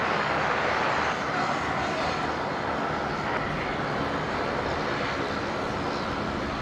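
Boeing 737-700 from Canberra on approach to land on runway 19 left at Brisbane airport, a steady broadband jet roar at moderate distance, holding evenly throughout with a slight gust-like texture in a crosswind.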